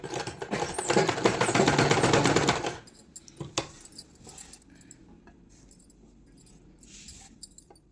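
Sewing machine stitching a blouse of main fabric and lining, a dense rapid rattle for about three seconds, then scattered clicks and light handling noises.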